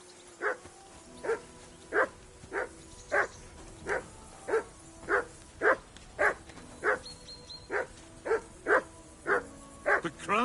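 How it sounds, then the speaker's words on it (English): A dog in the video game Kingdom Come barks over and over, about sixteen loud, evenly spaced barks in a steady rhythm, close and clear with no talk over them. "Call off that damn dog before he wolfs down the last of our mates."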